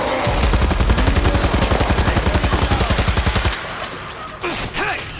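Gunfire from World War Z: a loud, steady automatic burst of rapid evenly spaced shots runs for several seconds, then cuts off, leaving a quieter spell with a couple of distant pops and brief chirping effects.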